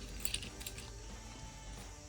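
Keys for a 1955 Chevy 6400 dump truck jangle faintly in a hand, a couple of brief metallic clinks near the start over a quiet background.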